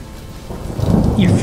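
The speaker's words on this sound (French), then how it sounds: "Un puissant coup de tonnerre éclata quelque part au nord." A powerful thunderclap during a rainstorm, somewhere to the north, swells from a low rumble into a loud, deep crack and roll over a steady wash of rain, with no voices.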